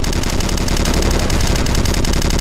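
Rapid automatic gunfire from the online shooter Red Crucible Firestorm rattles in a loud, dense burst that runs nonstop for the whole moment.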